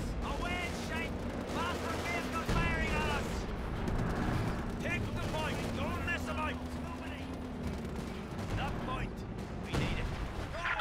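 Bursts of gunfire, including machine-gun fire, crackle and boom across a Company of Heroes 2 battlefield at La Gleize, mixed under frequent shouted voices.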